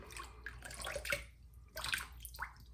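A wet shaving brush swirls over a tub of Stirling shaving soap, giving soft, close, splashy swishing strokes in short bursts with brief pauses between them.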